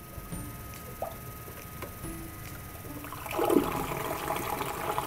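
Fast-flowing water rushing through a sediment model, a steady faint trickle that swells into a louder gush of washing water near the end, with no talking.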